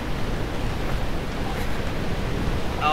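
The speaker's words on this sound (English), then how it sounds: "it is just really windy outside today" Strong, steady wind roars in broadband gusts during Tropical Storm Kenneth in the Roblox game Bloxy City, continuous and fairly loud throughout with no talking.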